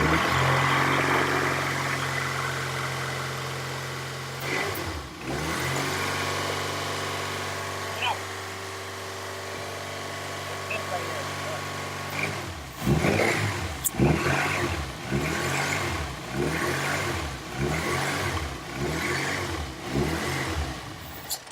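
Honda Civic Si engine fitted with an RBC intake manifold, idling steadily and then blipped through a series of sharp revs in the second half, close and loud, with people talking over it.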